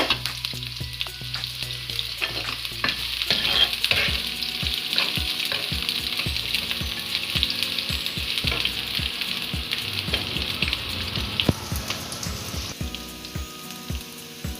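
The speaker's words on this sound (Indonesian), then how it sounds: "Panaskan minyak, masukkan bawang merah dan bawang putih, tumis sampai harum." Shallots and garlic sizzle steadily in hot oil, with a bright continuous crackle and sharp stirring clinks from a spatula against the pan throughout, close and fairly loud.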